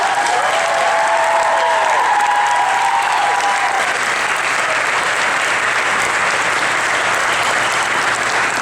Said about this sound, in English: Elizabethan audience, let's clap for them